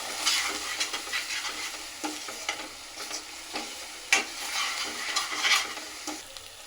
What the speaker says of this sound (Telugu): అందుకే మనం ఇలా కలుపుతూ ఉండాలి.